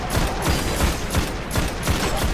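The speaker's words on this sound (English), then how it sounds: "I shot his head off with my revolver" Rapid, heavy volley of gunfire from the video game Destiny, repeated booming shots in a steady rhythm filling the whole moment, loud and close with no talk over it.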